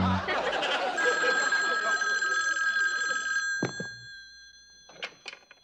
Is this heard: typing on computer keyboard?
no